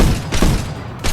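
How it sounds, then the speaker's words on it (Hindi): Dense, loud bursts of video game gunfire blast in quick succession, with rapid shots blending into booming volleys over about a second. "गोली चला रहे उस पे।"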